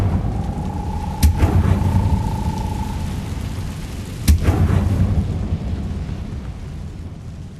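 The Incendio fire spell in Hogwarts Legacy bursts twice, a few seconds apart, each a sharp whooshing flare with a low rumbling tail over a constant background hum.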